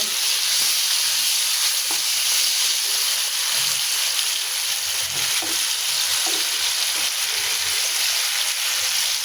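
Sliced teasel gourd (kakrol) frying in oil in a pan, a steady close sizzle and hiss with occasional soft stirring or turning clicks, no talk.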